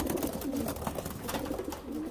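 Young racing pigeons coo softly in a loft, a steady low burbling murmur of several birds close by with no talk.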